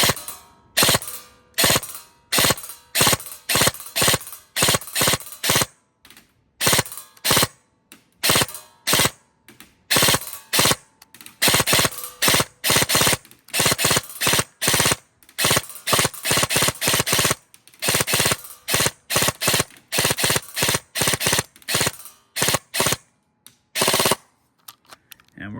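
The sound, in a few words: burst fire from a Lancer Tactical Gen 4 Predator airsoft gun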